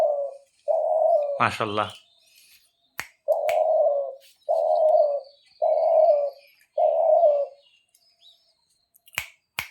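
Pet pigeons coo in a series of five or six low, rounded phrases at close range, with a brief spoken word early on and a few sharp clicks between calls.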